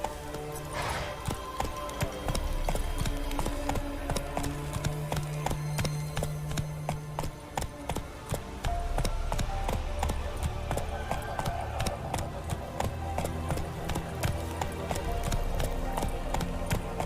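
Roach, the horse from The Witcher game, gallops with a steady, rapid clip-clop of hooves. It continues loud and close the whole time over a dense game soundscape, and no one talks.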